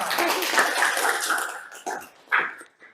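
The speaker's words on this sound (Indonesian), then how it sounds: "tepuk tangan dulu buat Salma" A high school class claps for a classmate, with dense, even applause at first that thins out into a few scattered claps and voices.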